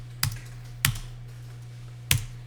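Three separate, crisp computer keyboard keystrokes, spaced unevenly, over a steady low electrical hum while someone enters a revised zero-rated electronic tax invoice in accounting software. No one speaks.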